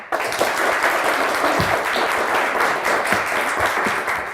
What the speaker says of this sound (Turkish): Bir alkış daha lütfen.